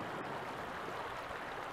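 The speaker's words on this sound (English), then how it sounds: "You can see the water is flowing really well here, and a really nice clear running creek." Clear water of Big Creek runs along the Lost Coast Trail near Miller Flat, a dense, steady rushing hiss heard close by with no voices.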